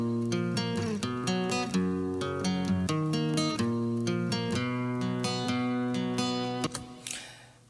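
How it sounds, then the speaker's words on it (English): Finger-played guitar layered up front over a chordal guitar part in a verse, bright picked notes in a steady rhythmic pattern with a rich harmonic tone, heard alone and ending on a few accented plucks. "so I wanted to add a finger play up front,"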